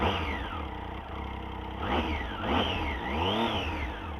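A Triumph Street Triple motorcycle engine fires up close by and revs in a few rising and falling surges, its whine climbing and dropping over a steady low rumble with no talking.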